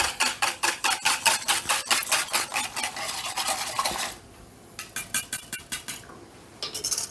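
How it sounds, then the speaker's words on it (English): A sauce for a slow cooker meal is whisked briskly in a bowl, rapid rhythmic scraping strokes close by, a short pause, then another burst of whisking. "Whisk."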